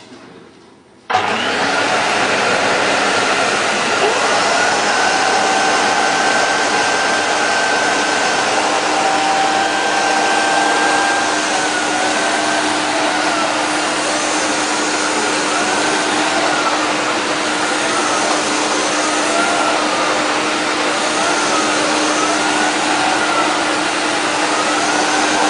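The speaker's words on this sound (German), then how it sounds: "7 Hours and 54 Minutes of Vacuum Cleaner Sounds." A vacuum cleaner starts with a sudden onset after a brief quiet moment, then runs as a loud, continuous, steady whooshing motor roar with a faint constant hum, with no voices.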